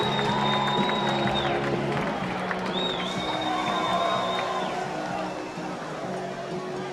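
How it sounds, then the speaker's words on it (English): Crowd noise from an audience at the Psicobloc Masters 2017 deep-water climbing competition, steady and fairly loud throughout, with cheering and whistles over a broad clatter of applause and an announcer's voice talking. "big round of applause."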